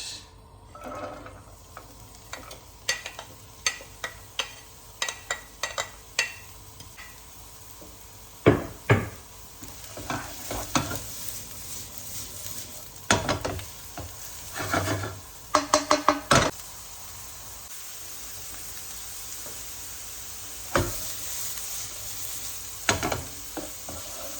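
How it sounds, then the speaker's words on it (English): Vegetables frying in oil for a ragù, heard as a steady sizzle broken by repeated knocks and scrapes of a spoon stirring them in the pan, close and without voices. "Okay, add some oil for the ragu. Add the veggies."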